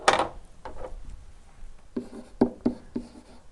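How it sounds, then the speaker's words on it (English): Pen scratching across paper or a board while an equation is written, a series of short rubbing strokes with brief pauses, close and fairly quiet, no talking. "let's just write the equation of our line"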